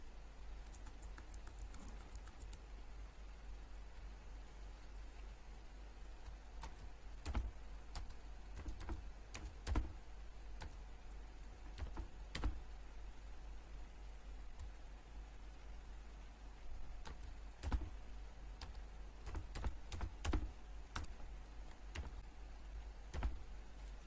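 A computer keyboard clicks as a password is typed, scattered clusters of quick keystrokes over a steady low hiss, close and quiet, no talking.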